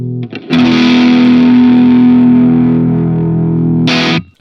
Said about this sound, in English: I'll play a chord and then sweep through the pot